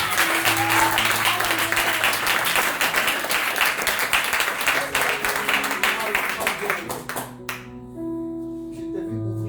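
A church congregation claps and applauds loudly and steadily through a worship service, with dense overlapping hand claps and voices beneath, fading out near the end into sustained organ or keyboard tones.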